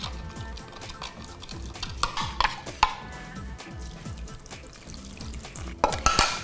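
A spoon stirs fresh yeast into liquid in a bowl for lahmacun dough, giving a steady close scraping and swishing rhythm with a few louder clinks against the bowl toward the end.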